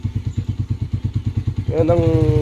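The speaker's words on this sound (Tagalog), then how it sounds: "Painitin mo muna yung makina." A motorcycle engine warming up idles in a steady, loud thumping rhythm, then revs up into a higher, smoother drone near the end, while a person talks nearby.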